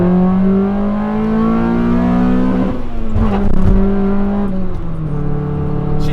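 A Honda Accord Euro R CL1 with the H22 engine accelerates hard in second gear, its loud engine note climbing steadily in pitch, dipping briefly at a shift or bump, then rising again from inside the car.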